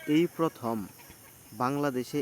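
Desi chickens clucking in a mango orchard on a farm in Sakhipur, Tangail, with a few close, voiced clucks in two short bursts separated by a quiet gap.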